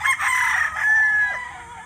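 Rooster crowing, an early bird gamefowl, one long loud cock-a-doodle-doo close to the microphone, rising and holding a bright drawn-out note before trailing off, with no talk.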